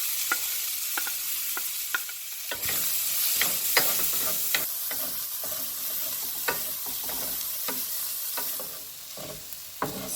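Bacon, tomatoes, onions, jalapeno and potatoes sizzle steadily in a pan for breakfast tacos, with repeated sharp scraping clicks of a utensil stirring through the frying food, close and continuous with no talking.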